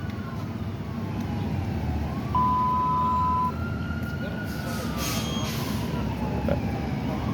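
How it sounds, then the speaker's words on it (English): An ambulance siren wails through stuck Boston city traffic, sweeping up and down steadily at moderate distance over a rumbling bed of engine and road noise. "I know he hears that siren in the back"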